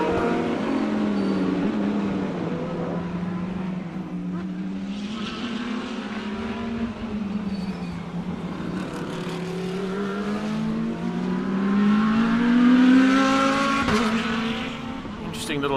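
Race cars, including two identical cars, drive a difficult racing circuit in a live SAGT race, their engine note rising and falling steadily throughout, with a louder swell near the end under commentary.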